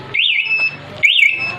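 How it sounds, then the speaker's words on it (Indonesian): A Yamaha Jupiter motorcycle's remote-triggered alarm sounds two loud, close electronic siren bursts, each sweeping up and down in pitch, with a short pause between them. "Caranya pencet satu kali maka mesin mati dan alarm berbunyi."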